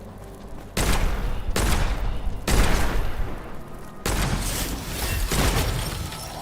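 Loud, close gunfire from the first-person shooter Witchfire: bursts of repeated shots in several distinct volleys, with a heavy boom behind each burst.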